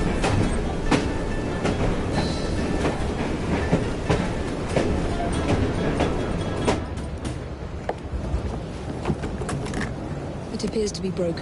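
Train running in Assassin's Creed Syndicate, a loud steady rumble with rhythmic clickety-clack of wheels over rail joints and occasional metallic clanks, with speech from people partly mixed in.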